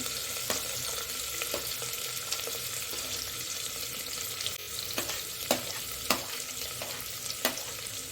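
Chopped onion and cumin frying in a pan, a constant bright sizzle under regular sharp taps and scrapes of a stirring spoon, fairly quiet and without speech.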